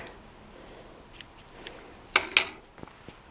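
Scissors trimming frayed thread on a Singer Model 20 sewing machine give two quick, quiet snips close together near the middle, with a few faint clicks before and after.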